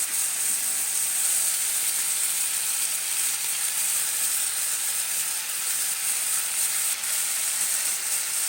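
Food fries in a pan with a dense, steady high-pitched sizzle and hiss that runs unbroken, fairly loud and close, with no talking.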